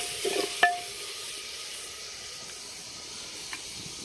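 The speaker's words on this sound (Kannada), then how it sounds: "ಈ ಮಣ್ಣಿಂದ ಇದು ನೀನು ಕೈಯಲ್ಲಿ ಹಿಂಗೆ ಆಡಿಸ್ಬೇಕಾದ್ರೆ ಅದರ ಟಣ್ ಟಣ್ ಟಣ್ ಅಂತ ಮ್ಯೂಸಿಕ್ ಥರ ಸೌಂಡ್ ಬರ್ತೈತಲ್ಲ" A clay pot of kushka rice is stirred over an open wood fire in a village courtyard, giving one sharp ceramic clink early on, then a few faint taps over a soft, steady sizzle and hiss.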